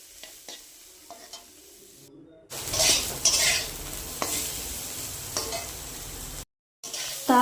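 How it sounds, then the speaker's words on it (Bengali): Drumsticks frying in a pan with salt and turmeric, stirred with a utensil: close, loud sizzling and scraping strokes with a steady hiss, briefly cut by silent gaps. "দিয়ে দিলাম পরিমাণ মতন লবণ, হলুদের গুঁড়ো দিয়ে ভালো করে নাড়িয়ে নেব।"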